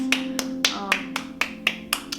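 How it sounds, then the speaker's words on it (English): Bare hands clap together during a qigong session, about nine sharp, evenly spaced claps close by over a faint steady hum. "And then you can clap them together a few times too."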